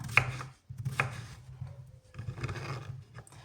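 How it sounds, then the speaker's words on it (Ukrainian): A knife slices through a peeled cucumber on a board in a few quick, close cutting strokes. Each stroke ends in a crisp tap on the board. "беремо е, огірочок, я почистила і ріжемо"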